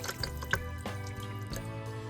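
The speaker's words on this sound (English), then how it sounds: "I put the water in the milk container so that I get all of the milk from inside the carton" Water being poured into a milk carton, a faint gurgling trickle with a few hollow glugs and drips, steady for about two seconds with no speech.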